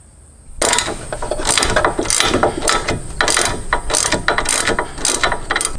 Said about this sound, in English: you'll need to put an open end wrench back here to stop that stud from spinning while you take the nut off